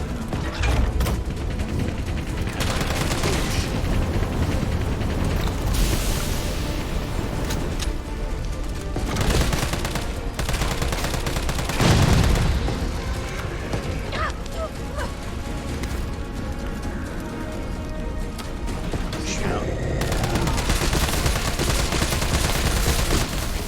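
Dense continuous gunfire and explosions as a fuel tank is shot in Resident Evil 3 Remake on PS4, loud and sustained throughout with mechanical clatter layered in.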